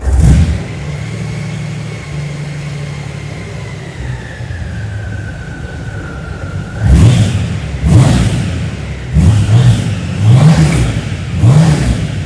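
A Honda Gold Wing Tour DCT's 1800cc six-cylinder engine with stock muffler idles steadily, then revs in five sharp, throaty bursts, each rising and falling, loud and close.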